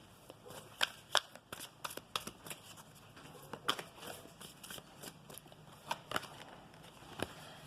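Romance Angel oracle cards being shuffled by hand, a close, quiet run of crisp riffling snaps and papery flicks in uneven bursts with brief pauses between.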